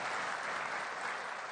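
An audience of Brazilians claps enthusiastically during a political address, a thick, continuous burst of applause from many hands, loud and sustained with no voices over it.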